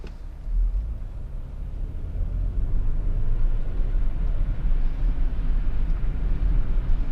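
Lexus RX 300 3.0 SE-L from 2004 driving on a rain-soaked road on a foul day, a steady low rumble of engine and tyre noise with wet road hiss building after the first half second and holding evenly throughout, no talking.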